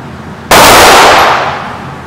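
At a shooting range, a single loud, sharp gunshot cracks nearby, then rings out as a decaying echo after a quiet moment.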